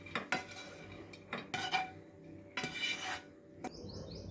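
A spoon scrapes and clinks against pots and a serving bowl as ginger rice is transferred, several separate metallic scoops with brief pauses and faint birdsong behind.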